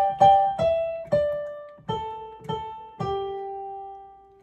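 Second soprano part of the choral piece Soli Deo played together with the first soprano part on a keyboard-like instrument: a few clear, separated two-part notes with decaying tails, close and unaccompanied.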